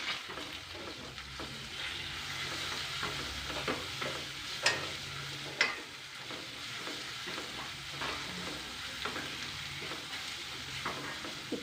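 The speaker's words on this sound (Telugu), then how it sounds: "ఇప్పుడు ఇందులో అల్లం పేస్ట్, కొద్దిగా పసుపు వేసి పచ్చివాసన పోయే వరకు ఫ్రై చేయాలి" Ginger paste and turmeric frying in a pan give a low, steady sizzle, with soft stirring scrapes and a couple of sharper clinks, heard close with no talking.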